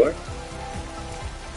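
Rain falls in the PlayStation 5 game Astro's Playroom as a steady, soft patter with faint rhythmic thumps underneath, brief and continuous.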